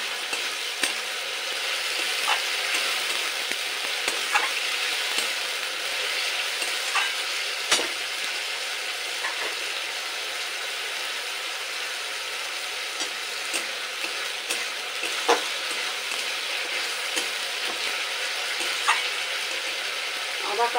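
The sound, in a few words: sautéing ginger, green chilli and garlic paste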